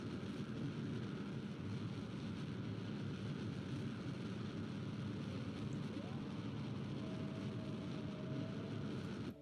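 Rocket engine firing at full throttle in Kerbal Space Program, a steady, loud broadband roar with a deep rumble that holds without a break throughout.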